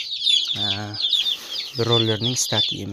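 Young chicks peep in their small coop, a quick string of high, thin chirps heard close by while someone speaks over them.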